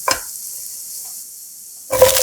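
Small dried barley shrimp crackle and sizzle as they are stirred in hot garlic oil in a pan. A sharp hiss at the start eases to a quiet simmer, then flares loudly again near the end. No one speaks.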